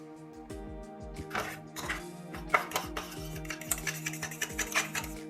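A spoon stirs mayonnaise with mint and coriander chutney in a bowl, making a run of close, irregular clinks and scrapes against the bowl that grow busier toward the end, with no talking.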